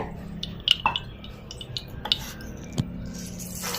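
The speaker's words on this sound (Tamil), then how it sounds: "குக்கரை வச்சுக்கோங்க இதில் வந்து எண்ணெய் சேர்த்திக்கங்க" Cooking oil poured into a pressure cooker on a home stove: soft dripping and splashing with small metallic clinks and taps of the pot, close and moderately loud, with no talking.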